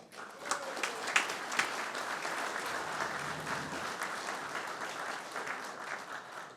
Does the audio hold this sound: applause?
yes